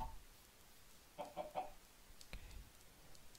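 A few soft clucks from chickens in the video game Farm Frenzy, in a quick cluster, faint against a quiet hissy background, followed by a couple of light knocks.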